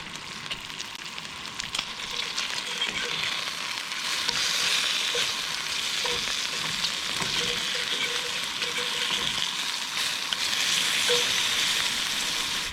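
Bacon sizzles and crackles steadily in a cast iron skillet at a campsite, a loud, continuous close-up frying hiss with occasional stirring sounds and no voices.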